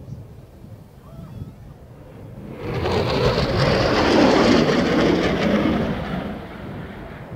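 An RAF Typhoon fighter jet flying a daytime display at the 2016 Scottish International Airshow; after a quieter opening, a loud, broad jet roar swells in around three seconds and holds steady to the end.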